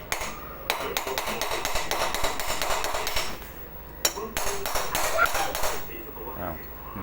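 A hammer taps a small nail again and again to drive out a tight pin from an electric fan, in quick metallic strikes with a short pause midway, close and loud.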